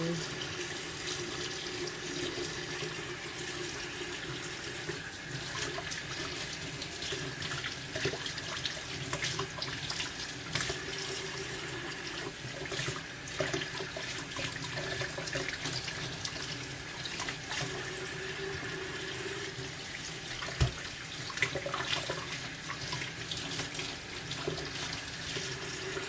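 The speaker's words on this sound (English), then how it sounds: "So I'm using cold water to rinse this off" A kitchen tap runs cold water steadily to rinse food for a beef stew, a continuous close hiss and splash lasting the whole stretch, with small clunks now and then.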